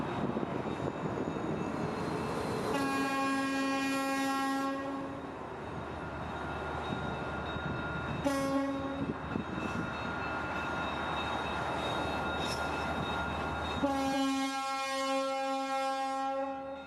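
Trailing cars roll past behind a CSX GP40-2 locomotive, including a 1950 Budd-built Southern Pacific passenger car, with a steady rumble of passage and a loud sustained horn blast, then a short toot, then another long blast, with no talk.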